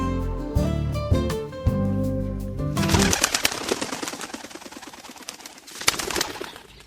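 Pigeons coo in soft repeated phrases, then a sudden burst of wing flapping and fluttering takes over as birds fly off, with sharp clattering wingbeats close by.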